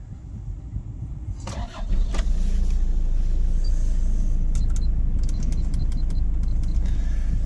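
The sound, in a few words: 1991 Toyota Townace 4x4 2.2 liter 2CT turbo diesel engine idling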